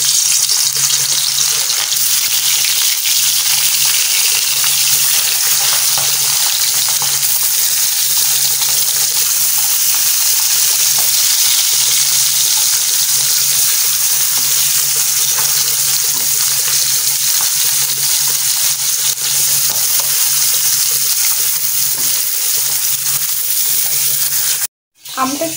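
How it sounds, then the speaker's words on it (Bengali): Fish fries in hot oil with a loud, continuous, close sizzle and crackle that holds steady for the whole stretch, cut off briefly just before the end. "তেলটা গরম হয়ে গেছে, এখন আমি মাছগুলো দিয়ে দিচ্ছি।"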